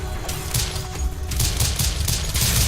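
Rapid gunfire in the video game Rise & Shine, dense repeated shots in quick bursts, loud and continuous over game effects.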